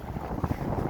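Strong outdoor wind buffeting the microphone in low, uneven rumbling gusts, loud and close for about a second.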